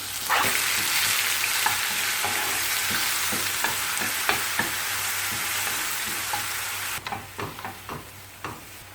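A ground paste of onion, garlic and ginger sautés in sesame oil with cinnamon, fennel and curry leaves, sizzling steadily up close while a spoon scrapes and stirs the pan in repeated strokes, ending in a few sharper knocks.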